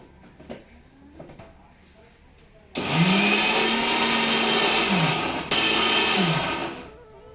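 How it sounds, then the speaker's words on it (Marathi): A kitchen mixer grinder blending onion and tomato masala for a spicy brinjal curry starts abruptly with a loud, steady whirring roar, dips briefly mid-run, then cuts off after about four seconds, following quieter handling clicks. "मिक्सरला बारीक करून घेऊया"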